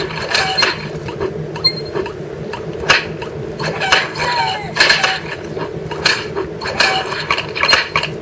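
A rubber chicken toy squawks repeatedly amid rattling plastic toy clatter, with loud, irregular bursts over several seconds and some background voice.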